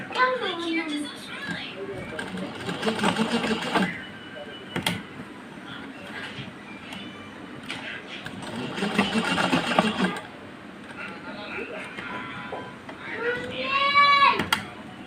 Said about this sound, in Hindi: और यहाँ से भी इधर पक्की सिलाई लगा लें।